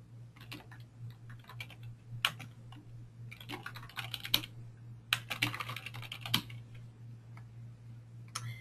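Typing on a computer keyboard while updating address fields such as zip code: bursts of rapid, close key clicks separated by brief pauses, over a steady low hum.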